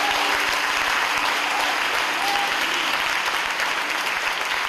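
A church congregation breaks into dense, sustained applause that holds loud and even for several seconds, with faint voices mixed into the clapping.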